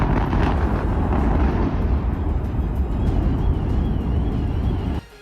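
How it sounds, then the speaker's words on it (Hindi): A massive explosive demolition of power station towers rumbles loudly, a deep roaring blast followed by sustained crashing collapse noise that cuts off abruptly near the end. "उन्हें विस्फोट के बाद मिट्टी में मिलने में 10 सेकंड भी नहीं लगे"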